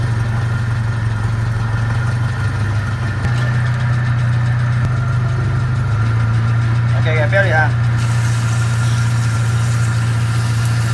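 Car engine idling steadily in gear while a wheel spins freely outside, a constant loud low hum with some brief higher-pitched squeaks partway through.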